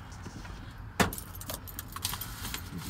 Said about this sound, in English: Put the keys down there.